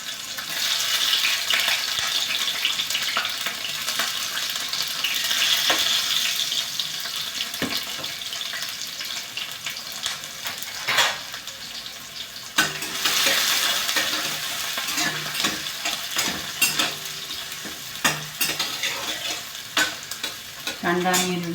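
Chopped onion and green chili sizzle in a hot pan for a bhaji, a steady frying hiss broken by repeated scraping stirs of a spoon against the pan.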